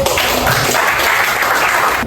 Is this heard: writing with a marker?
no